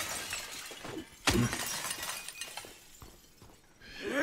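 A window pane shatters in the Silent Hill 2 Remake horror game, one sharp, loud crash of breaking glass over a quiet, ominous ambient background.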